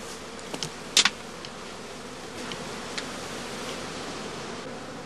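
Bees buzzing in the open air around a row of straw skep hives awaiting dispatch, a steady low hum with a few brief close fly-bys, no talk.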